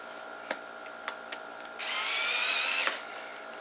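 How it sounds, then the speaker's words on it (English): A small power drill whirs for about a second, boring out holes in a Freewing 70mm F-16 Falcon foam model jet, with light clicks and taps before and after. "I have to drill them out."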